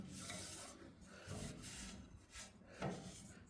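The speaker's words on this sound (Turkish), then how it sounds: "Bezimizi alıyoruz. Şöyle siliyoruz." A cloth rubs back and forth across a painted wall during cleaning, giving a steady soft rasping scrub with a few louder strokes, close and alone without speech.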